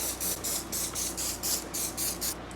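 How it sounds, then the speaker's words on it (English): Avocado oil spray spritzed onto a quesadilla, nine quick, evenly spaced hissing pumps in a rapid rhythm, close and clear with no talking. "I'm going to spritz it with some avocado oil spray."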